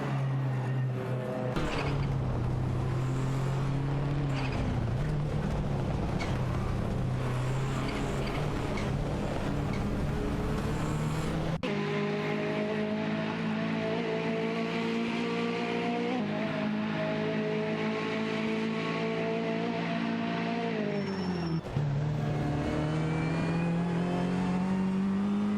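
Porsche race cars, a 944 Turbo and a 900-series Carrera among them, roar loudly through an AI racing game track, engines droning steadily with pitch shifts as they shift gears and pass, continuous throughout.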